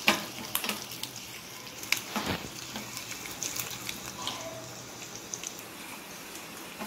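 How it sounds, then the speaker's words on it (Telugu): Chana dal tempering fries in hot oil for a tomato pickle. A continuous crackling sizzle carries sharp pops and spatters, with a louder burst around the middle. No voices are present. "కొంచెం పచ్చనపప్పు కలర్ మారే వరకు ఫ్రై అవ్వాలి"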